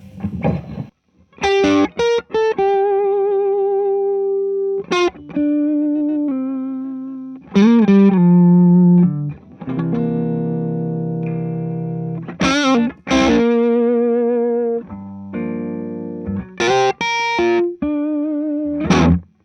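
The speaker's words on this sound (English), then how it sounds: "So it's just got a lovely sort of simple compressed sound" Electric guitar through a compressor pedal into a slightly broken-up amp, on a Gigrig G3 pedal board, playing plucked notes and held chords with even, squeezed sustain and pauses between phrases, loud and alone.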